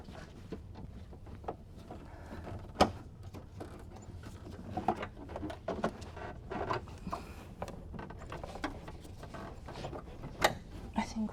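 Light clicks and ratcheting taps while intake boot clamps are tightened onto the intake plenum of a BMW E46 M3, close and quiet, in irregular bursts.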